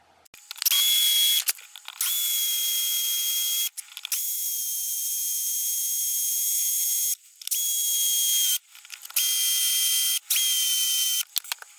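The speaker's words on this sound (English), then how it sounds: "I'm going to have to drill these out" A small power drill bores out screws from an old DVD drive, whining in several high-pitched bursts that start and stop abruptly, some long and steady, close up with no talking.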